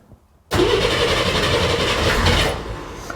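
A Corvair engine fitted with custom fuel injection, previously flooded, cranks briefly and then catches, roaring into a loud, sustained rough run that eases slightly near the end, close by with no speech.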